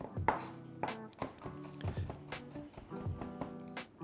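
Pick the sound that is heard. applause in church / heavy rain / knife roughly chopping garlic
knife roughly chopping garlic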